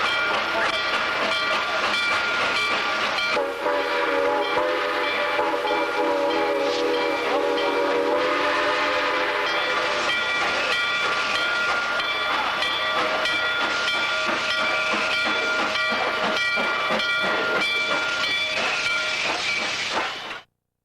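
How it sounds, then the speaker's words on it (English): The Chessie Steam Special steam locomotive passes near a long tunnel, loud hissing steam and rumbling rail cars filling the air with a sustained whistle-like tone before the sound cuts off abruptly. "Here the train passes through a 431-foot long tunnel."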